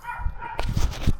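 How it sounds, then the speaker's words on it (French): A neighbour's dog barks a few times nearby, short gruff woofs in a quick cluster over a low outdoor background hum. "Il y a le chien du voisin."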